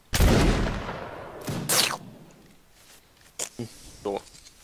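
Musket volley fire in a Napoleonic Wars video game: a loud ragged burst of massed shots at the start, a second volley soon after, then a few scattered single shots, with voices around them.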